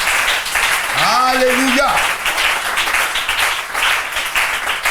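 A church congregation applauds in a dense, sustained wash of clapping, while a single voice calls out briefly over the noise near the start.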